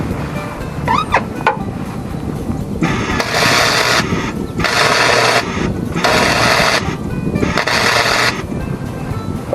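MIG wire-feed welding of a step onto a Kubota B2400 tractor, heard as four steady bursts of crackling, sizzling arc noise, each a second or so long and separated by short pauses, close and loud over a background hum.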